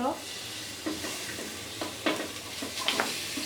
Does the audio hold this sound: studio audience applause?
no